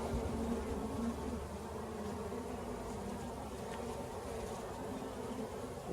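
Dense, steady buzzing of many honey bees around an open nuc hive during inspection, a continuous close swarm hum with no voices.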